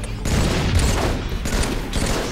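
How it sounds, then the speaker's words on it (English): Gunfire in a video game comes as a dense, continuous volley of rapid shots, loud and close throughout. "Stop fucking shooting me."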